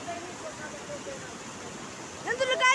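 A deep river flows with a steady, close rushing wash that fills the whole stretch, and a voice breaks in briefly near the end.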